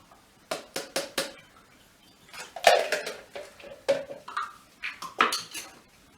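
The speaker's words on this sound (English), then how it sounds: "we're just going to strain our health shot in" A ginger, lemon and apple cider vinegar health shot is strained through a small funnel into a bottle, with a run of close, sharp clinks and taps of utensils and glass sounding in uneven bursts, no voices.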